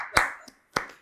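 Short bursts of hand clapping in a few separated claps at a bocce event, close and fairly loud, with brief quiet gaps between them and no talking.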